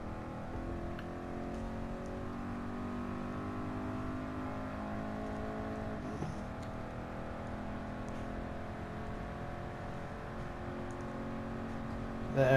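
A Ford Mark IV race car engine drones at high revs in GT Sport on the Le Mans circuit, a steady, buzzing multi-tone roar with slight pitch shifts and no one speaking.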